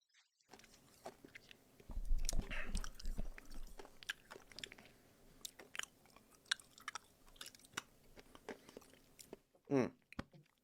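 Close-up open-mouthed chewing into a microphone, wet smacking and crunching bites in an irregular stream, loudest early on, with a faint voice near the end.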